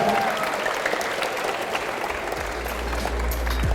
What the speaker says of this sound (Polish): Ogromne brawa dla Emilki.